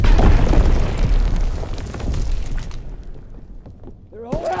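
A mortar blast in Call of Duty: WWII lands close and loud, a deep booming explosion that rolls off into debris and rumble before a short voice cuts in at the end.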